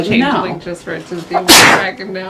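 One person gives a single loud, breathy sneeze in the middle of steady conversation at a tabletop Dungeons & Dragons game session, with voices talking before and after it.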